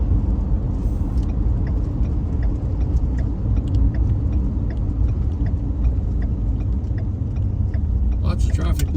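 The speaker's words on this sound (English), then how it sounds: "Lots of traffic now." Steady traffic rumble from cars on one-way roads in Campbell River, British Columbia, a continuous low drone with no gaps, heard close by and fairly loud throughout, with a few faint ticks on top.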